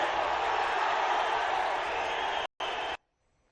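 A massive crowd at Vijay's Madurai rally cheers in a dense, loud, continuous roar that is cut off abruptly near the end.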